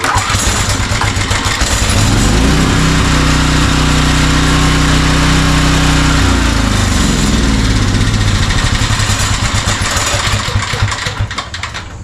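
After the choke is pulled, an engine cranks and catches, then settles into a loud, steady running rumble close by that tapers slightly at the end.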